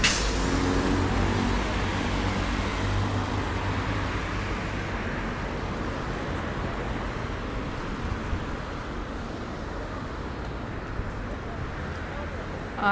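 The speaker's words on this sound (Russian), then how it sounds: "Здесь очень шумно, так как дорога и машины." Heavy road traffic on a busy Istanbul street, a steady loud wash of car, bus and truck noise that continues throughout with no break.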